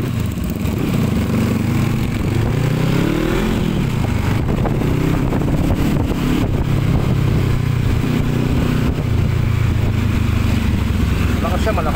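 A Honda CB500F motorcycle engine runs close by through its muffler with a loud, throbbing exhaust note that rises and falls in revs over twelve seconds, while people talk over it.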